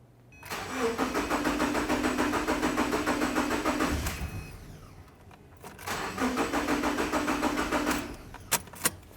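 A 2012-2016 Subaru Impreza engine cranks with the fuel pump fuse removed: two long rhythmic starter-motor cranking bursts that never catch, separated by a pause, followed by a couple of sharp clicks.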